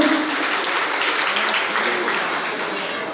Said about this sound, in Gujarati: તો તાળીઓ આપીને એમને વધાવી દઈશું